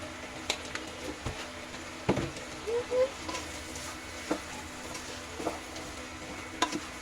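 Chickpea mixture with halved green chillies and salt being stirred in a pan, giving quiet, scattered scraping clicks over a faint low background, with a couple of brief soft chirps.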